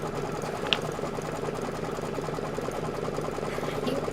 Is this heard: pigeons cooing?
no